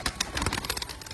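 Pigeons coo in a home loft, a pair with chicks in a cage nearby, soft repeated throaty calls close by over broadband rustle and fluttering.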